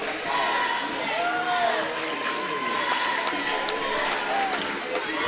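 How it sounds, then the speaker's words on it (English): Crowd at a high school basketball championship game between Fairfield and Mount Carmel keeps up a steady murmur with scattered shouts and sneaker squeaks, while a commentator talks over it. "Got a great crowd here tonight"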